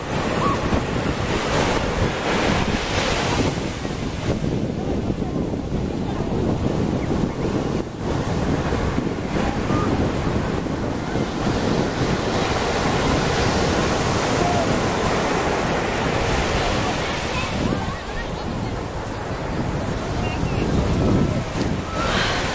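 Ocean surf and wind at Santa Monica beach, a continuous loud wash of breaking waves with heavy wind buffeting the microphone, rising and easing slightly over about twenty seconds.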